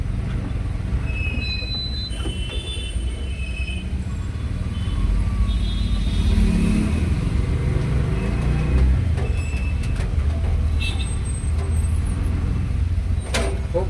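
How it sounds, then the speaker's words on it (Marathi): Heavy road traffic in a long jam on a waterlogged main road in Pune during rain, a continuous low rumble of engines with high squeals and scattered brief tonal sounds like horns or brakes, no talking. "खूप लांब पर्यंत ट्रॅफिक जाम."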